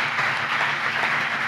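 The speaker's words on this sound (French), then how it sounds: "Nous applaudissons matin notre frère Serginho Lindor." An audience at a conference breaks into applause: dense, steady clapping from many hands, loud and even across the short stretch, with no voices over it.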